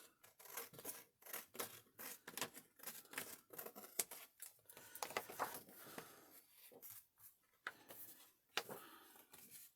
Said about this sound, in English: so back in with the big scissors.